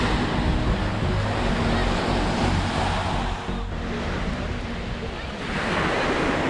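Strong wind roars across the microphone while surf breaks steadily on a sandy Greek beach, a dense, continuous rush of waves and gusts with no pause.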